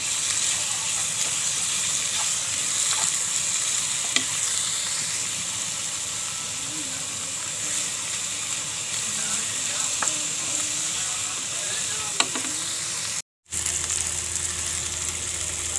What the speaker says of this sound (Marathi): असं टोमॅटो टाकते आणि बरोबरच हे खोबरं थोडंसं टाकते आणि सगळं भाजून घेते